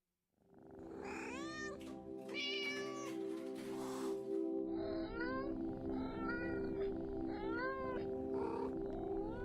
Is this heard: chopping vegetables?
no